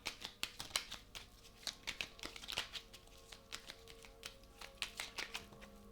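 Tarot cards shuffled and drawn by hand for a weekly reading, a close, quiet run of crisp papery flicks and slaps in uneven bursts, with no talking.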